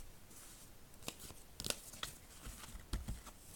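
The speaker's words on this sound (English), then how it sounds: "I'm going to continue shuffling." Tarot cards are shuffled by hand close by in a quiet room, giving soft riffling bursts and a few sharper flicks and slaps, faint and uneven in rhythm, with no voices.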